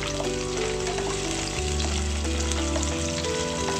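Fat chilies are stir-fried with fragrant shallots and garlic, giving a dense, continuous close sizzle with faint stirring clatter throughout and no voices.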